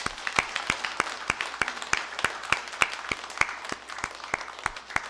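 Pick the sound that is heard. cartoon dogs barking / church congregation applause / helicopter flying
church congregation applause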